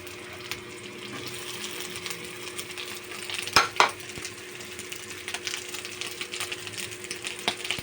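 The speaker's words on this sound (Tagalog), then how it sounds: "Gigisa ko muna ang mga sahog." Ingredients for ginataang kalabasa sautéing in a pan, a steady soft sizzle under light stirring with a couple of sharper scraping clinks of utensil against pan midway.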